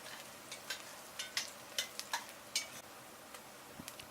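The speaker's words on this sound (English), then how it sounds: "add the whole spices into the pot. Give the pot a stir" Whole spices and broken-up onions stirred in a cooking pot for railway mutton curry: faint, quiet scraping and clicking of a spoon in repeated light strokes over a soft background hiss.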